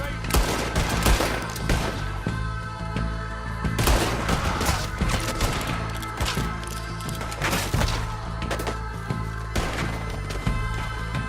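Rapid gunfire from Red Dead Redemption 2, a shootout with repeated loud cracking shots in irregular bursts, some close and some overlapping, over a steady rumbling background with occasional voices.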